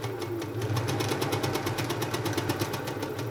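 A 1948 Singer 201K sewing machine, belt-driven and not yet serviced, runs steadily with a rapid, even mechanical clatter and motor hum, fairly loud and close, somewhat noisy, with no talking.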